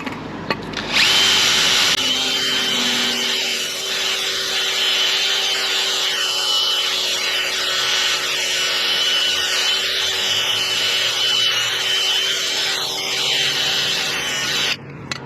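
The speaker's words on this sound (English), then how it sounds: "I'm just going to use a simple power drill with a steel wire brush on it" A power drill spins a steel wire brush against a rusty car brake bracket, a continuous whining, rasping grind that holds steady for about fourteen seconds and stops abruptly, with no talking.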